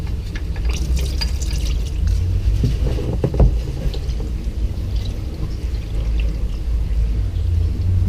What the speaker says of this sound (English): So we're just going to allow this to drain for a while until we get all the fluid out of it.